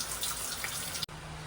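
Water from a shower head in a campsite shower at a Thai train stop runs in a steady broadband hiss, close and continuous, with a brief dip before the flow resumes.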